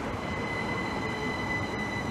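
A Great Western Railway Class 387 electric train passes Maidenhead on the main line with a continuous, close rumble of wheels and a high whining tone that stays steady throughout.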